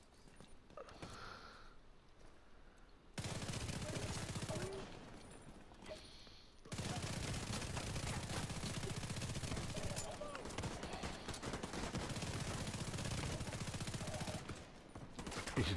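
Sustained automatic gunfire from a rifle in the shooter game The Division 2, loud bursts running for several seconds at a time, broken by a brief lull, with a voice heard faintly under the shots.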